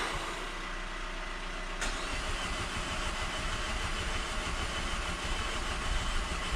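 A car engine, just fitted with a new diesel particulate filter after engine adjustment, cranks and catches, then runs with a rough, uneven low rumble that grows slightly stronger, close by with no talk.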